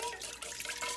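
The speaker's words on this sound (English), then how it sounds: "We're gonna pour in the salt water." Salty water poured from a container into a pot on a stovetop during play-dough making, a short trickling splash.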